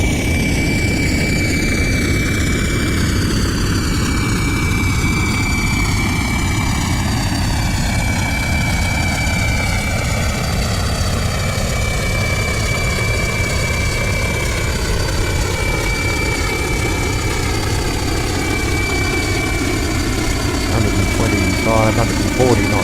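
A Qantas Boeing 737-800 in Flight Simulator X spools up its jet engines for takeoff, a loud continuous roar with rising whining tones that climb steadily over the run.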